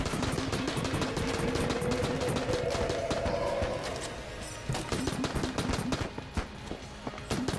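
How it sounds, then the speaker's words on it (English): A Tommy gun fires in rapid, steady bursts in the Enter the Gungeon video game, dense and loud throughout, with overlapping impacts and a brief dip in intensity midway. "we'll take our combination Tommy Snow Gun, active reload it, and get started"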